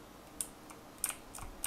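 Typing on a computer keyboard during a Valorant-style shooter game session, a few soft, sparse key clicks over faint background hiss.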